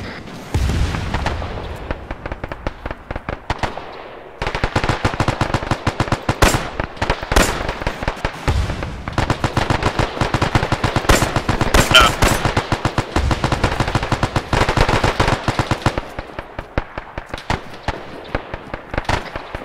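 A Thompson submachine gun in a WW2 video game fires long, rapid automatic bursts, loud and close, with brief pauses between strings of shots and other gunfire mixed in.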